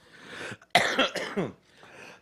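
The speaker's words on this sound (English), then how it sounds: "he made me cough" A few harsh coughs in quick succession, close and fairly loud, followed by a softer throat-clearing rasp.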